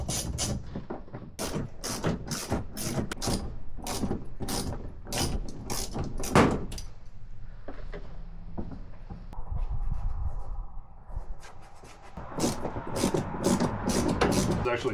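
A ratchet rattles out 10mm bolts from the fender liner of a G20 BMW 330i, making fast, close clicking strokes in repeated bursts, with quieter scraping and fumbling between them.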